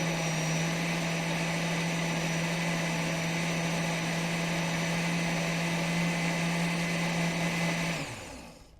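A new blender with a pulse setting whirs steadily at full speed for about eight seconds, a loud, constant motor drone with a strong low hum, then spins down and stops near the end.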